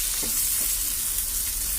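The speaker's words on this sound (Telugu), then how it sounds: "ఇప్పుడు ఇందులో కట్ చేసుకున్న టమాటా ముక్కలు వేసుకోవాలి. వీటిని కూడా బాగా ఫ్రై చేసుకుందాం." Chopped tomatoes frying with onions in a pan for a potato tomato curry, a dense, loud sizzle filling the short stretch with a faint stirring scrape.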